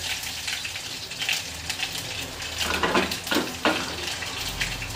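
Garlic, mustard seeds and cumin tempered in hot oil for a potato and greens dish crackle and sizzle in a home kitchen, a steady frying hiss with a few sharper bursts, fairly close and alone.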